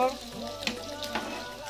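Close-up sizzle of chilies frying in a pan with a steady crackle, broken by a couple of sharper scraping stirs; a faint voice lingers underneath.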